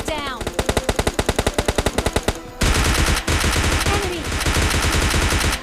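Gunfire in the mobile game PUBG Mobile Lite: a loud, rapid automatic burst of evenly spaced shots, then dense overlapping fire and heavier blasts that continue without a break.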